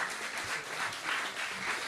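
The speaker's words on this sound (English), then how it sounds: "Please, can we hear a loud applause for her?" An audience claps at a climate talk in Accra, a dense even patter of applause lasting throughout, fairly close and with no speech over it.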